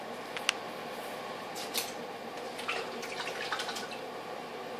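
A knife handle set with Gorilla Glue is dipped into a water quench bucket, giving faint intermittent drips and light splashes over a low steady background hiss, with one sharp click early on.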